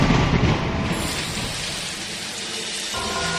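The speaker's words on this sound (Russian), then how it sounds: "И лился на землю дождь 40 дней и 40 ночей." Heavy rain pours in a steady dense hiss while a deep rumble of thunder rolls beneath it, loud and continuous, with no voices.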